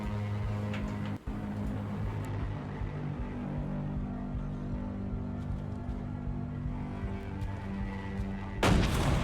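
A tank fires in the video game Reanimal, with a heavy rumbling boom near the start over a steady droning game backdrop, and a second loud blast bursting in right at the end.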